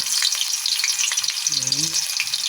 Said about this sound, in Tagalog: lagyan na po natin ng igisa na po natin tong mga ricado